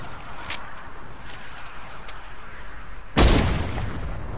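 A Barrett rifle fires once in a video game: a single loud, sharp shot near the end, cutting through steady background noise and game ambience.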